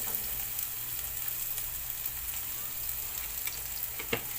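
Ground pork frying in hot oil in a pan, a steady close sizzle with crackles and a faint scrape of stirring near the end, no talking.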